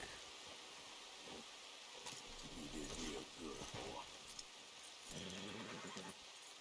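Horse in the Red Dead Redemption 2 video game: soft snorts, a whinny and scattered hoof sounds over a steady hiss of game ambience, fairly quiet and close.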